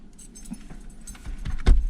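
A bunch of truck and trailer keys jangles as it is handed over at the Canada–USA border crossing, a short close metallic rattle that builds to a sharper clink at the end, with no talking.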